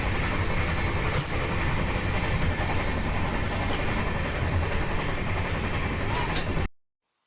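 A Garib Rath Express train running on the rails, heard from inside a coach as a loud, steady broadband rumble and rattle with faint rhythmic wheel clatter throughout before cutting off.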